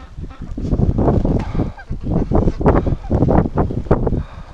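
Breeding ducks on a farm call in a raucous run of honking quacks, loud and near, with wind buffeting the microphone on a cold spring day.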